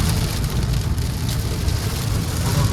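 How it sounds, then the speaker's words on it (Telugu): Heavy rain drums steadily on a car roof and windscreen during a drive on a ghat road, a dense, loud, unbroken wash of sound with low road rumble beneath. "టూ మచ్ వర్షం పడుతుంది."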